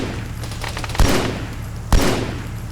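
Gunfire in ArmA 3 during a Halo-themed military operation: a steady background rattle of distant automatic fire punctuated by two heavy, close shots about a second apart.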